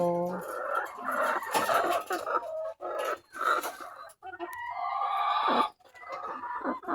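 RTL laying hens cluck and cackle on a poultry farm, with several birds calling close by in overlapping bursts and a voice briefly heard among them.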